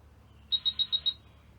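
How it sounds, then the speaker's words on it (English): A quick burst of five high, evenly spaced electronic beeps from a Sansi Stellar Cam motion-sensing security camera, clear against near silence. "Some little beeping is all I'm hearing."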